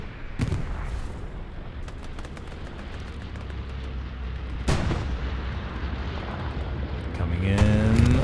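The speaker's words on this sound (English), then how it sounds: "This will be an allied bombing run now." Allied bombing run in the WWII shooter Hell Let Loose on Omaha Beach, a constant low rumble of distant artillery and explosions with occasional louder blasts and a whining sound near the end.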